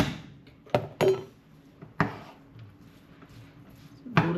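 A spoon knocks and scrapes against a metal pot as cooked rice is mixed for a Mexican-style bowl, a few sharp clinks spaced by quieter stirring, close by in a home kitchen.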